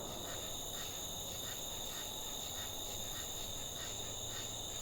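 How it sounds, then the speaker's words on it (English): Crickets and other insects chirp at night in a dense, continuous high-pitched chorus, with faint rhythmic pulses under a soft background hiss. "the insects come back in when you do that"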